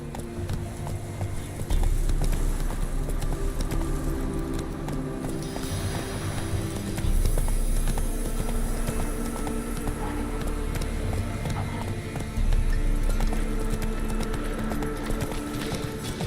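A horse gallops in the Witcher 3 video game. Its steady, continuous hoofbeats roll on over a layer of background music, with a couple of brief surges in intensity.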